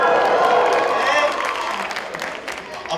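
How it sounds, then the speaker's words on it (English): A campus culture show audience breaks into a short burst of applause for a stand-up comedian. The clapping is fairly loud at first, then thins out quickly while someone speaks over it. "Applause for that?"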